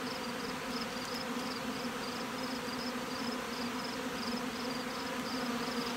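A dense, steady drone of many honey bees buzzing together at close range inside a packed nuc hive box, continuous and unbroken.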